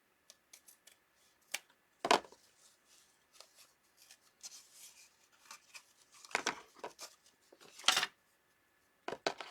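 Scissors snip through material for a patriotic wreath in scattered, sharp cuts, with a few louder crisp snips standing out among soft rustling and handling noises at close range.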